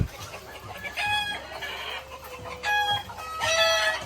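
Chickens in a poultry layer building on a small farm cluck in close, overlapping bursts, with short rising calls and a rooster-like crow among the flock.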